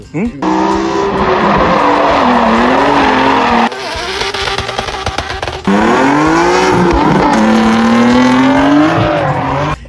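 Nissan GT-R cars drift at a Dubai show, with loud, sustained tire squeal and roaring, revving engines that shift in pitch, close and continuous, with a brief dip midway and people talking over it.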